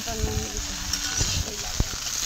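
Green mango pieces fry in hot oil for a pickle, a steady close sizzle with soft stirring scrapes and a sharp clack near the end, while faint background voices murmur underneath.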